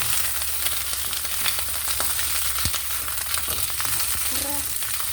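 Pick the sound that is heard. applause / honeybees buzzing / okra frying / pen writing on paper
okra frying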